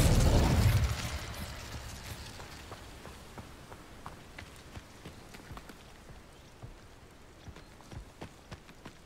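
Incendio and Expelliarmus spells cast in a Hogwarts wizarding video game: a loud whooshing burst at the start fades into a string of faint, scattered crackles and taps.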